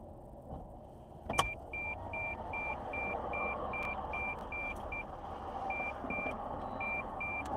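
Reversing trucks nearby emit evenly spaced electronic back-up beeps, a long steady series with a short pause, over a constant low engine and traffic rumble, with one sharp knock near the start.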